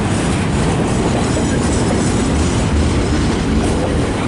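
Train rolling past at close range, a steady loud rumble with faint clickety-clack of wheels on rail joints throughout, heard alone with no voices, near a busy rail yard junction.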